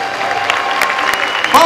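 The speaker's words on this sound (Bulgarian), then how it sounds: "Начувам аплодисментите ви!" Crowd at an MMA event in Veliko Tarnovo applauds a technical-knockout winner, a brief, dense wash of clapping and noise with a voice talking over it.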